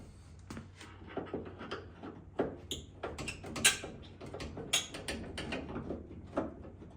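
Screws are worked out of an interior trim piece in an LS-swapped Camaro, with close clicks, ratcheting rattles and a few sharper creaks and knocks of plastic and metal, no talking.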